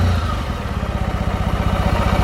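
A 2001 Kawasaki W650 motorcycle idles at about 700 RPM, its engine close and steady with an even, rapid low thumping pulse and light mechanical clatter.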